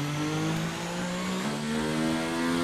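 A Formula 1 car with a damaged gearbox drives in the video game F1 2019, a steady droning engine note that holds, briefly dips and resumes, continuous and loud with no talking.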